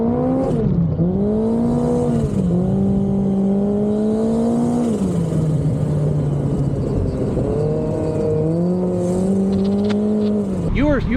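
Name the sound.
Polaris Pro R side-by-side accelerating with tires spinning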